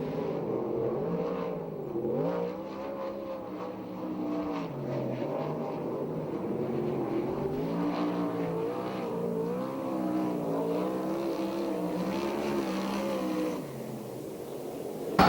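A USAC/CRA sprint car runs a qualifying lap at the Perris racetrack in California, its engine wailing loud and steady with rising and falling pitch as it circles, sustained for the whole lap.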